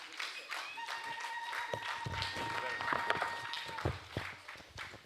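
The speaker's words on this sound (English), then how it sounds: "Please, I'd like that we make that applause for him a bit louder than that." Applause and scattered clapping from an audience honouring the Governor of Kaduna State at a Nigerian independence anniversary lecture, steady and moderately loud, with voices talking over it.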